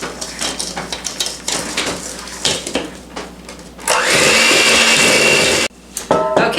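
Electric mixer beating molasses and egg into gingerbread cookie dough: a loud, steady whirring drone for about two seconds after bumping and scraping sounds, then a brief stop and restart.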